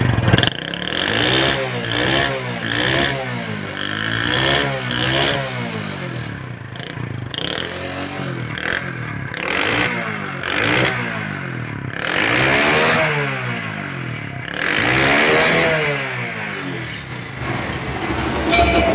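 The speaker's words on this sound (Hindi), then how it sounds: "दोस्तों बाइक स्टार्ट कर दी है, इसका स्मोक भी चेक कर लेते हैं।" A 70cc motorcycle engine with a white-smoke fault runs close by, revving up and down repeatedly in rising and falling surges with a steady idle rumble between them, and no voices over it.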